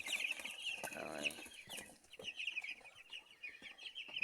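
A flock of 19-day-old broiler chickens clucks and cheeps in a dense, continuous chorus inside a poultry house, fairly faint and steady throughout.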